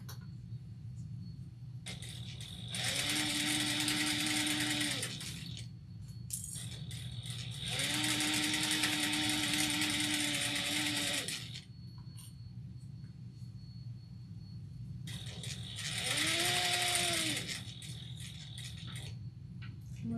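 Sewing machine base stitching at a 3.5 stitch length, three bursts of steady whirring and rattling stitching of a few seconds each, separated by quiet pauses, close and moderately loud.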